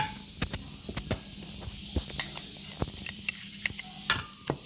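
Sweet potato being stirred together with sugar, black pepper and salt: irregular soft scraping and clinking taps of a spoon against a bowl, close and fairly quiet.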